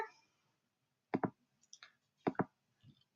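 Mouse clicks while choosing a color in the Picto4me Chrome app: two quick pairs of sharp, quiet clicks a second apart, close to the microphone, with no talking.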